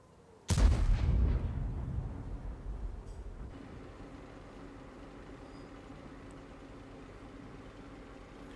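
A single loud tank cannon blast from World of Tanks with an EBR 105 on the Mannerheim Line and Murovanka maps, booming then rumbling away into a steady low engine drone.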